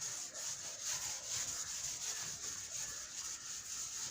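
Something rubs out a drawing on a board with a steady back-and-forth scrubbing, fairly soft and continuous for a few seconds. No one speaks.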